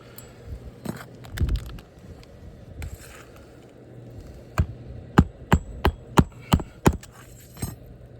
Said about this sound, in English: manufacturer specifications state to get this nail flushly driven at a 90-degree angle, so that's what we want to mimic here with our roofing hatchet